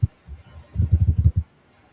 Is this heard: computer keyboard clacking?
yes